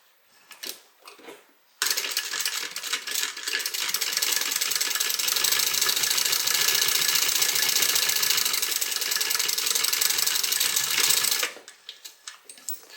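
A sewing machine top stitches a small tote bag, running in one steady, loud, continuous burst of about ten seconds, with brief quiet handling sounds before and after.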